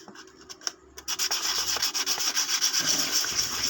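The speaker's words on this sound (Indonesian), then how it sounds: "pakai amplas air yang sangat halus nih" Steady rhythmic rubbing of very fine wet sandpaper, grit 500 to 1000, on a fishing reel, close up, starting with a few scattered strokes then settling into continuous back-and-forth scraping.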